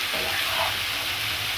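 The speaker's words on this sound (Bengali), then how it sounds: "রসুনটা ভেজে নেই" Chopped garlic with onion stalks fries in a pan with a steady, loud, even sizzle that stays constant throughout, without talk.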